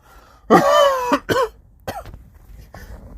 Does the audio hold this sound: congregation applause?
no